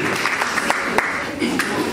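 Scattered hand claps break through a noisy crowd at a church launching celebration, a few sharp individual claps rising above a steady murmur of voices.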